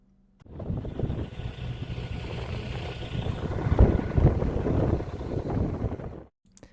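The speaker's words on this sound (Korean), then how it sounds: "파타고니아의 바람 소리였습니다" Strong wind in Patagonia buffets the microphone, a loud continuous roar with gusty swells that peaks midway, starting and stopping abruptly, with no voices.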